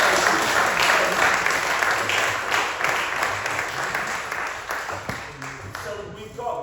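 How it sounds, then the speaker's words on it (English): Participants at a performance workshop with NHS staff break into a round of applause that gradually fades, with talking emerging as the clapping dies down. "Can you bring a round of applause?"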